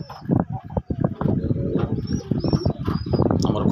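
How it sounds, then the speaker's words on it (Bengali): A pair of red native pigeons cooing and flapping their wings up close, with busy fluttering and soft coos, along with some other nearby sounds. "অসাধারণ একজোড়া লাল কবুতর, দেশি কবুতর।"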